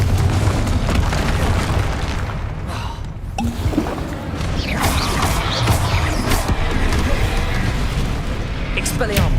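Explosive Confringo spell blasts from the Hogwarts Legacy video game, heavy booms and crashing bursts layered in a dense, continuous wash of combat effects with a brief lull midway.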